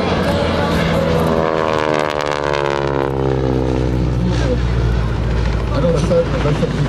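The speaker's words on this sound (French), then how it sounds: "apprécier la particularité, le son de ce moteur en étoile" Radial engine on a propeller aircraft at a 2012 Prouvy-Valenciennes air show drones steadily nearby, its pitch sweeping slowly down and up as it passes, with a continuous low rumble and wind noise throughout.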